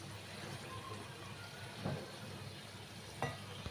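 Salted shankarpali deep-fry in oil with a quiet, even bubbling hiss, and two soft clinks of a stirring spoon against the pan.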